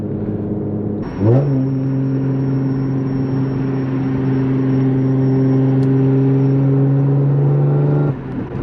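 An Audi S4 engine roars up and holds a steady high rev for several seconds with a raspy, buzzy exhaust tone, loud and close, then drops off.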